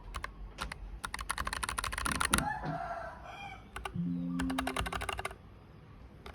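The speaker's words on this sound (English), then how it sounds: "they both have brown switches, so the sound is very similar." Typing on mechanical keyboards with brown switches, a Keychron K3 Pro and a NuPhy Air75, heard as two bursts of rapid, close, crisp key clicks separated by a pause, with a faint tonal squeak in the background.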